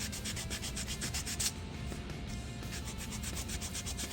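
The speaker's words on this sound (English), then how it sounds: "Just start sanding the paint" Steady rhythmic sanding of paint off a slot car body, a scratchy rubbing back and forth in quick even strokes, close up and continuous.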